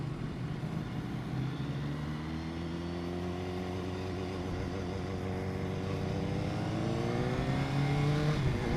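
A 2015 BMW S1000R motorcycle accelerates hard from a close riding position, its engine climbing through several quick-shifted gears in a continuous, rising roar over wind noise.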